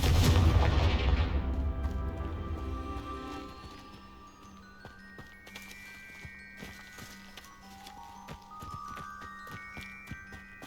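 A Confringo explosive spell blast in Hogwarts Legacy booms loudly at the start and rumbles away, followed by softer game effects, chimes and faint clattering.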